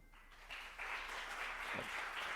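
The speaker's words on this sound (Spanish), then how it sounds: "Un fuerte aplauso." Applause from a conference audience after a speaker's introduction, a faint, distant and even patter of clapping that swells after a brief lead-in and continues steadily.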